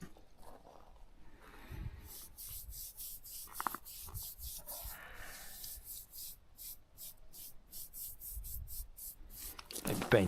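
Wood oil brushed onto wooden planks on a farm, the bristles giving a steady scratchy rubbing in repeated strokes, close by, with a few brief louder knocks.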